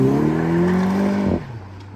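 A Mini Cooper with traction control switched off revs hard for a burnout, a loud close engine whine with a faint tire squeal, then drops off abruptly after about a second and a half.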